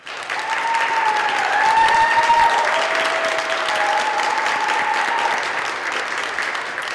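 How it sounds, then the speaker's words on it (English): Sustained applause fills a hall at a career and technical college commencement ceremony, with a crowd clapping loudly and steadily while whoops and cheers rise above it, then tapering slightly toward the end. "Let's give them a big round of applause."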